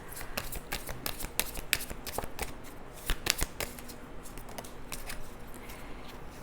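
Tarot cards shuffled by hand at close range, a string of quick crisp riffles and soft slaps repeating in uneven bursts, quiet and alone.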